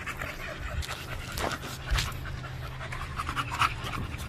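Dogs pant steadily outdoors in the heat, quick rhythmic breaths close by at moderate loudness with a faint whimper or two.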